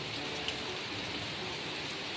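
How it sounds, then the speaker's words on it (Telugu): Heavy rain pours steadily outside a home, a dense, continuous hiss with no break, close and fairly loud, and no voices. "చాలా వర్షం పడుతుంది."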